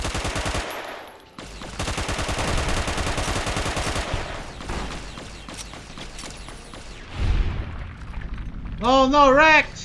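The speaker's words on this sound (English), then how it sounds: "Let's just go use a gun." Video game gunfire hammers out in dense, rapid automatic bursts, loud and close, with pauses and mechanical clatter between them. Someone talks over parts of it.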